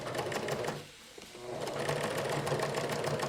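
A sewing machine stitches fabric around a top's back panel in steady rapid running bursts, close and loud, with a short pause near the middle as the needle is stopped at a corner before stitching resumes.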